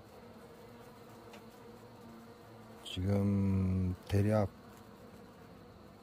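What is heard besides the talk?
black hornets and honeybees buzzing at a hive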